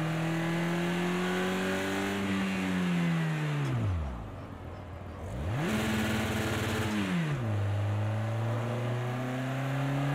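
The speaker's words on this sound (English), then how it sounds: "So you can hear where I stalled the car there." In Project Cars 2 racing in VR, a car engine drones steadily, then its pitch sinks as it stalls and cuts out briefly before revving back up and settling to a steady hum again.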